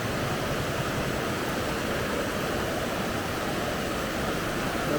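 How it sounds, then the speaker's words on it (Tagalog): Mini waterfalls on the Dupinga River in the Philippines pour in a dense, steady rushing roar, close and constant throughout with no pauses. "Ayun po, mini waterfalls."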